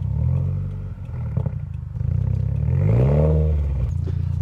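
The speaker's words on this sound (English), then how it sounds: "we're going for one last drive with the R400 Turbo back" Subaru with an Invidia R400 turboback exhaust, a deep loud exhaust drone while driving, rising in pitch as it revs and accelerates around the middle, then settling back to a steady rumble.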